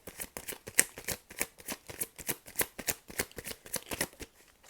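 Tarot cards shuffled close up by hand: a quick, even run of papery riffles and slaps, fairly soft, fading near the end.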